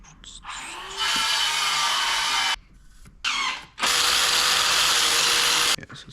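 A power tool cuts a piece of stock for a gantry crane in two sustained, loud whirring runs separated by a brief pause, close by, with no speech.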